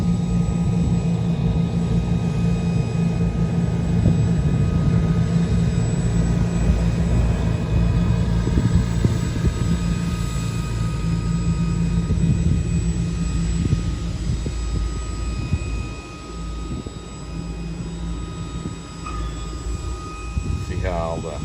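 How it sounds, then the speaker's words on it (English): Twin engines of a Chinook helicopter run in a steady, loud turbine roar and whine that continues throughout, with someone talking over it. "they got two engines on that one helicopter"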